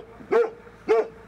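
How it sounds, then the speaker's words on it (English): Dogs bark at a remote Arctic meteorological station on an island. Two sharp, close barks sound about half a second apart, with a third starting at the end. "A pack of dogs greeted us at the helicopter pad"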